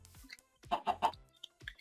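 Minecraft chicken clucking in a TrollCraft hardcore survival world, a quick run of three short, close, bright clucks followed by a couple of softer, isolated chirps against near silence.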